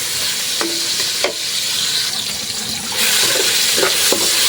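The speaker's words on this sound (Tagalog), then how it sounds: "Halo-haloin lang natin mga idol hanggang sa maluto yung kamatis natin." Tomatoes sizzle steadily in a hot pan as a utensil stirs them, with repeated scraping strokes over the constant frying hiss.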